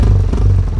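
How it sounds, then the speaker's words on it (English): Loud, steady engine drone of an ATV quad bike idling after starting up on an off-road ride in Kalimpong, close to the microphone with a rough clattering rumble and no talk. "let me start up the engine"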